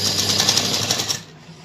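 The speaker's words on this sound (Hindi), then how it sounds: "सीधी सिलाई यहाँ पर हम लगाएंगे।" A sewing machine runs a steady straight stitch along the zip of a bridal lehenga, its fast, loud mechanical whirring holding steady for over a second before stopping abruptly.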